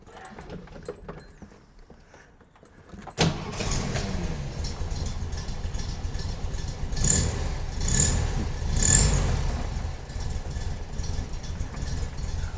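A 1968 Volkswagen Beetle engine cranks and catches after a quiet stretch with faint clicks, then settles into a loud, steady air-cooled idle with a few revving swells, close by.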